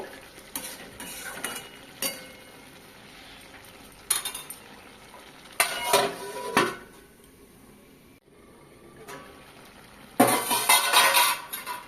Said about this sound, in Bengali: আর দু মিনিট মতো নেড়ে চেড়ে ভালো করে ঢাকা দিয়ে দেব